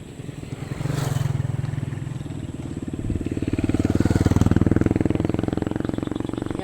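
Motor scooters pass along a village road in the afternoon, their small engines droning and revving up close, one swelling louder as it nears with a pulsing, buzzy tone, over faint background noise.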